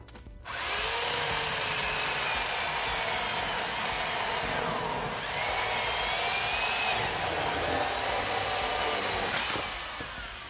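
Sun Joe SWJ806E 8-inch electric chainsaw cutting through a partly rotten log, a loud steady high-pitched whine that holds for about ten seconds and dips slightly as it bites into the wood.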